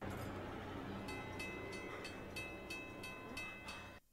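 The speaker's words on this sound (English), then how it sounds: "A train. The train is coming." From the film Final Destination, an approaching train rumbles low and steady, with a rhythmic run of sharp rail clacks, before the sound cuts off abruptly near the end.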